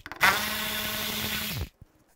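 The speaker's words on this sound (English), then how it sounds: "Take these bolts out on both sides, use a 10 millimeter socket." A 10 millimeter socket on a power driver spinning out a front bumper bolt on a 2015-2020 Cadillac Escalade, one sharp close whir lasting about a second and a half, then a faint click.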